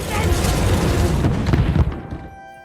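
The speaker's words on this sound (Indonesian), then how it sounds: "Alhasil bom itu meledak menewaskan Ballard dan para bandit." Gunpowder bombs thrown into a fire explode in a film scene: a loud, rumbling boom with crackling debris that swells for about two seconds, then quickly fades to near silence.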